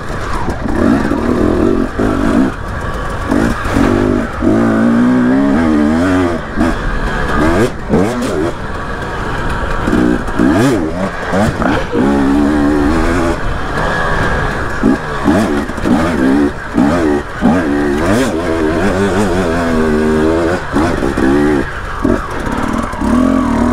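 A moped ridden on a ride, its engine revving up and down repeatedly with clattering, wind-buffeted rumble close to the rider, loud and continuous throughout.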